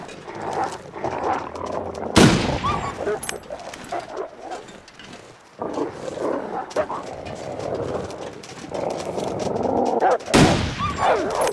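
Two loud, sharp rifle shots ring out in The Long Dark, several seconds apart, over wind and scattered game noise with some talking in between.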